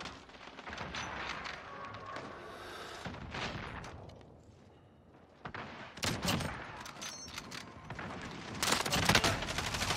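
Video game gunfire in rapid bursts and volleys, loud and close, with dense clusters of shots separated by short lulls and heavier firing toward the end.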